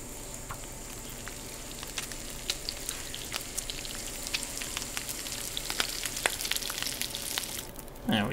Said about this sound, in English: So let's cook that while we have a fire going.